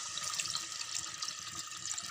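Water pours steadily into a pot of chicken nihari, Delhi style, about two glasses added to the cooked chicken, a close, continuous splashing rush that runs alone for a couple of seconds before cutting off.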